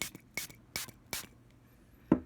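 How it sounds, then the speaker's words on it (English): Four short, crisp spray bursts of an Usher celebrity perfume in an even rhythm, close up, followed by a brief soft clunk; quiet surroundings with no talking. "let's go ahead and give that a spray real quick"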